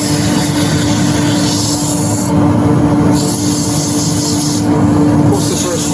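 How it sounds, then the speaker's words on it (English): Continuous loud rasping hiss of sandpaper working the inside of a wooden goblet spinning on a lathe, steady throughout with slight surges in intensity. "So a quick sand then inside."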